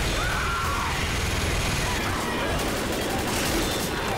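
Dense, continuous machine gun fire in Left 4 Dead, a loud unbroken rattling barrage with crashing mechanical clatter throughout.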